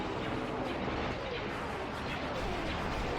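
LAAT gunship cannons firing in a Star Wars video game mod of the Imperial fleet produce a dense, continuous barrage of overlapping blasts and booms. The sound stays loud and steady throughout, with no let-up.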